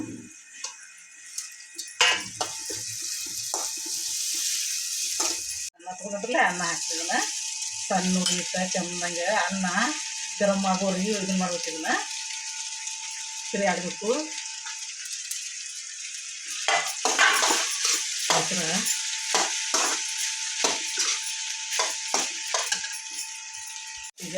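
Tomatoes hiss and sizzle steadily in a generous amount of hot oil while leftover rice is prepared as a breakfast dish, with occasional stirring clicks and brief voices midway.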